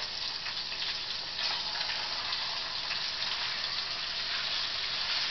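Pork shoulder searing in a pan, a steady, broad hissing sizzle that holds evenly throughout, close and moderately loud with no voices.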